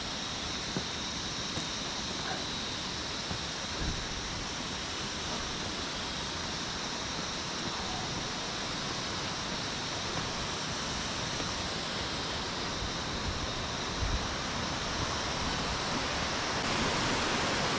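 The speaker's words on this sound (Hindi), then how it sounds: "देखिए कहाँ से पानी गिर रहा है" Steady, dense rush of falling water, a continuous roar with no pauses throughout.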